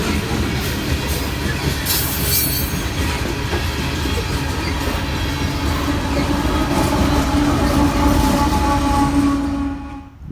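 Long coal freight train rolls steadily past with an AC44CW locomotive as the rear distributed power unit, a continuous close rumble of heavy cars and wheels with faint squeal, swelling slightly near the end before fading.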